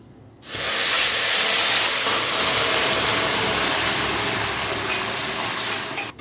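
Chana dal tipped into hot oil with tempering spices bursts into a loud, sudden sizzle that settles into a dense, steady hiss lasting several seconds before cutting off.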